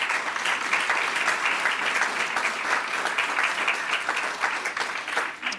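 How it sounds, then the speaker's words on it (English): A room full of people applauds at a school board of education meeting, steady continuous clapping at fairly loud level with no break for the whole stretch. "give them a round of applause"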